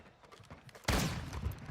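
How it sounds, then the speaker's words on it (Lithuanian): Gunfire in the video game Call of Duty breaks out suddenly as a dense burst of shots, loud and sustained after a quieter start. "Aš kai girdžiu, kai mane šaudo."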